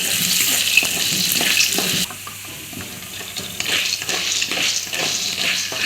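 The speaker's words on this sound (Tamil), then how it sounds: "இப்போ இதில் எண்ணெய் ஊற்றி வறுத்துக்கணும்ப்பா." Mochai field beans roast in hot oil in a home kitchen pan, giving a steady close sizzling hiss with stirring scrapes; the sizzle drops in level partway through, then rises again.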